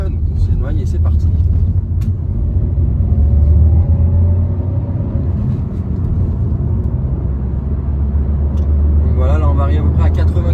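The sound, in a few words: Opel Crossland X car driving off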